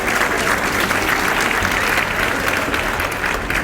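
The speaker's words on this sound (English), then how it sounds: "you can cheer, clap," Luncheon audience at a high school awards event applauding steadily, a dense, even wash of clapping with faint cheering mixed in, sustained and close throughout without pause.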